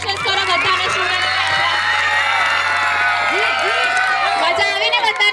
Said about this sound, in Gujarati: ચલો તાળીઓ પાડો, કોંગ્રેચ્યુલેશન કરો બધાને